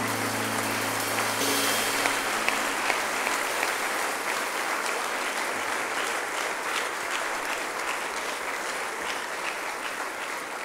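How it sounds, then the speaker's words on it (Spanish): A church congregation claps in praise during an evening service, steady sustained applause holding at even strength throughout, with a faint held tone underneath at the start. "Dale un aplauso a Él."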